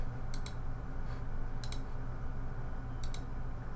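A computer mouse clicks in quick pairs, three sharp double-clicks spaced about a second apart, close and crisp over a quiet room hum.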